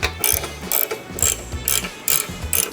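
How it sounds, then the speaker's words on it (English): Ratchet working 1/4-inch hex drive bolts on the stock front fender of a Harley-Davidson Fat Boy: loud, close bursts of rapid pawl clicking in a steady back-and-forth rhythm, about six strokes with short pauses between. "That's accomplished by removing 4 bolts. These are 1/4-inch hex drive bolts, 2 on either side."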